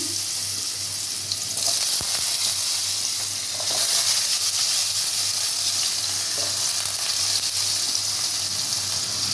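Potato pieces sizzle in refined white oil with turmeric in a pan for a Bengali-style chicken chowmein, a steady, close, even frying hiss with faint stirring scrapes and no talk.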